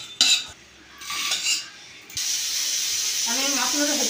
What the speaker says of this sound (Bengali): এটা আমি ভালো করে নেড়ে ভেজে নেবো